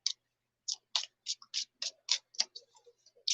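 Tarot cards are shuffled in quick bursts, a series of short crisp riffles and flicks with brief pauses between them, close and fairly quiet, with no voices.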